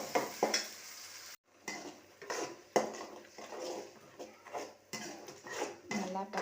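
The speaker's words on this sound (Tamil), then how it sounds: "நம்ம அரைச்சி வச்ச பேஸ்ட்டையும் போட்டு நல்லா எண்ணெய் திரண்டு வர அளவுக்கு நம்ம இப்போது வதக்கி எடுத்துப்போம்" Ground masala paste for a chicken kulambu sautéing in oil, with repeated close scraping strokes and metallic pan clinks over an intermittent sizzle, a brief pause partway through and voices heard now and then.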